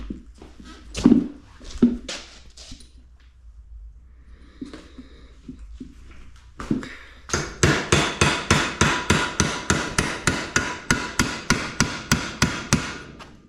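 Metal hammering on the wheel bearing shaft of a 1985 Honda Big Red 250 ES, a few scattered strikes early on, then a long, steady run of sharp, ringing blows repeated in an even rhythm, loud and close.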